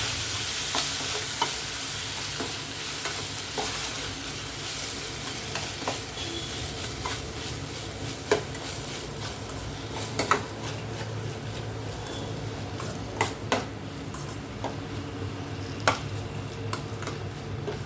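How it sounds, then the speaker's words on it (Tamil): Tomato, green chili and onion sautéing in a pan over medium flame, a steady close sizzle with frequent sharp ticks and clicks of stirring throughout, no voices. "இப்போ தக்காளி பச்சை மிளகாய் வெங்காயம் எல்லாமே நல்லா வதங்குற வரைக்கும் நம்ம வெயிட் பண்ணலாம்."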